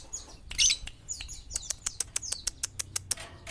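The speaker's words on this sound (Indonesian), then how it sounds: "ini kurang lebih ada sekitar 50 burung teman-teman ya dan semua burung-burung di rumah ini dijual" Dozens of caged songbirds kept together in a house, among them white-eyes and hummingbird-like birds, chirp rapidly in a dense run of sharp, high tweets and short calls, fairly close and loud, with no talking.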